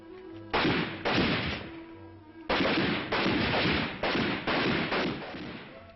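Rifles firing at a military rifle range, loud close bursts of shots in two groups separated by a short pause, each blast with a rumbling tail.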